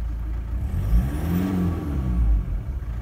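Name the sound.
diesel engine idling with a knocking rattle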